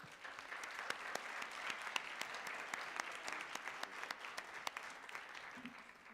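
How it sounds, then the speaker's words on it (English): Sustained audience applause at a board of education meeting, a dense steady patter of many hands clapping at moderate distance, fairly even in loudness throughout with no talk over it. "I think that deserves another round of applause."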